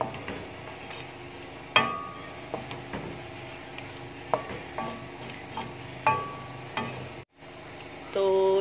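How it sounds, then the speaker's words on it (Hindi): Chicken karahi fries with masala in a pan: a low, constant sizzle broken by sharp metallic clinks and scrapes of a stirring spoon at irregular intervals, with no talking. "इसे भी 10 से 5 मिनट मसाले के साथ भूनेंगे"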